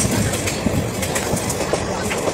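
A passenger train runs along the rails near Chandannagar station in India, heard from on board: a steady rumbling roar with a quick clickety-clack of wheels over rail joints and a faint squeal, loud and close throughout.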